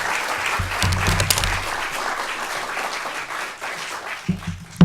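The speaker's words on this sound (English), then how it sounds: "I just want you to welcome, with clapping hands, which I know you will, Mark Slavkin." Audience at a creative classroom symposium breaks into warm applause, a dense, sustained wash of many hands clapping that holds steady for several seconds before tapering off.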